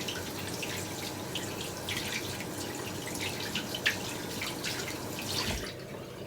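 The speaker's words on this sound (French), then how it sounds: "Une fois que j'ai bien frotté, hop, je viens rincer sous l'eau" Makeup brushes being rinsed under running tap water, a steady faint stream with soft splashes and a few drips, close and continuous for several seconds before the flow eases at the end.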